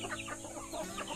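A broody Rhode Island Red hen sitting on duck eggs clucks softly and steadily, a low grumbling murmur heard close but quiet.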